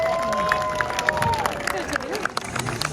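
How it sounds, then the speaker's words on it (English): Crowd on a saluting battery in Valletta, Malta, applauding the cannon gunner after the daily gun salute, a brief burst of clapping and outdoor crowd noise with a whistle-like tone in the background. "Give a big round of applause, please,"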